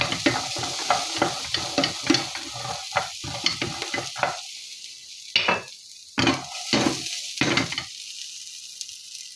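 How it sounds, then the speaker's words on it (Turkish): Chickpeas roasting in a pan with a little oil, stirred with rapid rhythmic scraping and rattling strokes under a light sizzle, then a few slower, separated stirs near the end, close and fairly loud. "Nohutlarımıza yarım yemek kaşığı yağ ilave yaptım. Şimdi karıştırıyorum tekrar."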